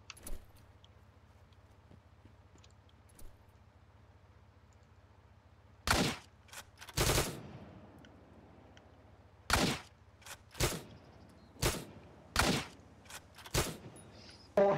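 Sharp bursts of gunfire in the video game Miscreated, several separate shots and short volleys spaced irregularly over quiet background.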